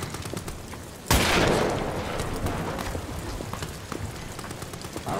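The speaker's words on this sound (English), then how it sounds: "I guess it's time to shoot." Gunfire erupts in the horror video game Amnesia: The Bunker: one sudden loud, close blast, then a long rumbling decay with scattered smaller cracks.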